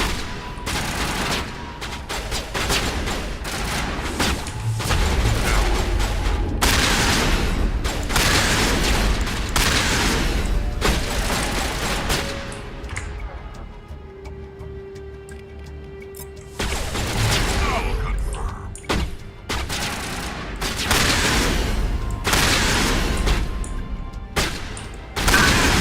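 Rapid shotgun blasts and other gunfire in a video game, loud and repeated in dense bursts, with a short lull in the middle before the shooting resumes, under occasional player talk.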